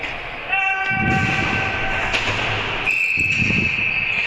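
A referee's whistle sounds during a bronze medal match between two teams. Loud, sustained shrill tones ring out close by, with one long blast and then another after a short gap, over crowd and arena noise.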